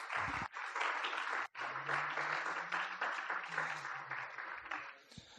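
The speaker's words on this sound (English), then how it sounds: "Please give a round of applause for our guest," An audience at a City Club of Eugene forum applauds the guest, sustained clapping from a mid-sized crowd that rises, holds and tapers off near the end.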